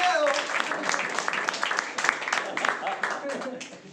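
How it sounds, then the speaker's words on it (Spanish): A church congregation applauds in a dense, lively burst of many hands clapping. The sound stays fairly loud throughout and tapers off toward the end, with faint voices mixed in. "Démosle un fuerte aplauso"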